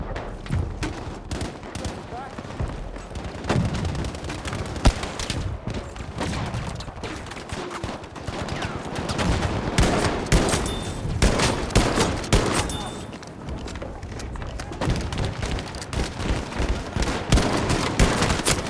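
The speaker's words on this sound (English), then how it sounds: "Are all of them using MG42s, bro?" MG42 machine gun fire in the video game Battlefield 5, with long stretches of rapid, overlapping bursts from several guns, punctuated by louder nearby shots, under intermittent talking.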